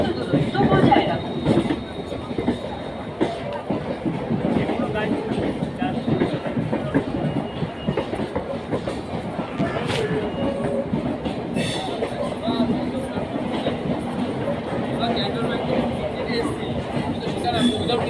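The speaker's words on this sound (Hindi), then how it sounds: "2 नंबर प्लेटफॉर्म से थ्रू ट्रेन जाएगी।" Through train passing a platform on the Sealdah local line in India, wheels rumbling and clattering steadily nearby for a long stretch, with a faint squeal and voices from the platform mixed in.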